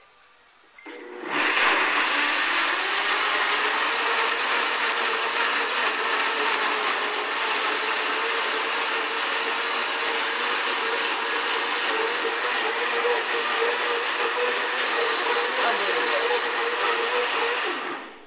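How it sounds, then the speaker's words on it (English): A K-Tech blender full of apples starts up and runs loudly for about sixteen seconds with a steady high whine, its pitch shifting slightly as it works, then stops. "fill up the K-Tech blender with apples and"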